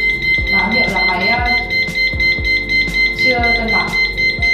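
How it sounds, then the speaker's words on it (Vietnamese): A laser level sounds a steady series of high electronic beeps while tilted off level, its warning tone repeating regularly close by under background noise. "Khi máy ở chế độ mở tia mà mình nghiêng máy thì máy sẽ phát ra những tiếng kêu bíp này, báo hiệu là máy"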